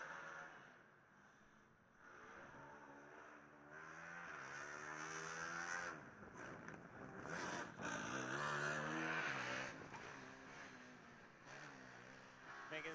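A Formula Student race car runs an autocross lap through a chicane and a kink at a 2015 event, its engine rising and falling through gear changes with tire squeal as it slides sideways, heard at a distance under a commentator's voice.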